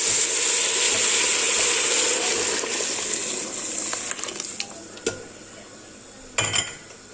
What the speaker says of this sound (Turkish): Şimdi son bir kere karıştırıp içerisine sıcak suyumuzu ekliyoruz.